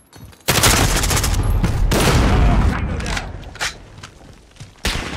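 A grenade explosion in Call of Duty multiplayer Hardpoint, a sudden loud blast that rumbles and fades over a few seconds, followed by scattered gunshots and thuds, with voices calling out beneath.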